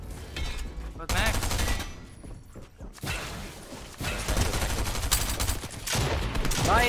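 Rapid video-game gunfire bursts loudly in dense volleys and sustained automatic fire, with a few thuds mixed in.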